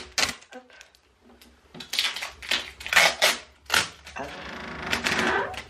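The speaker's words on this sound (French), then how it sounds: "Bon je vais le déscotcher." Adhesive tape is peeled and pulled off a window latch in a string of sharp, crackling rips and tearing bursts, close and fairly loud, with a few handling knocks between pulls.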